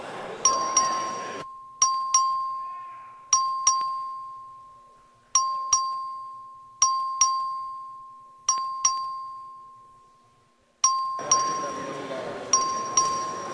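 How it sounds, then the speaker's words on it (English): Voting bell in a Texas House legislative chamber, a loud electric bell ringing in a long series of sharp repeated strikes with pauses between them, with faint room murmur at the start and end. "The clerk will please ring the bell."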